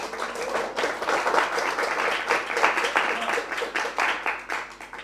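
Applause from an audience at a school closing ceremony, a steady rolling wash of many clapping hands that swells and fades slightly over several seconds, fairly distant in a large space.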